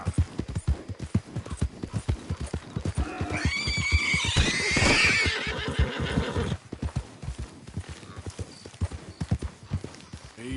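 A horse in Red Dead Redemption 2 gallops with steady, rapid hoofbeats throughout, and a loud, drawn-out whinny rises over the hooves near the middle before the galloping carries on alone.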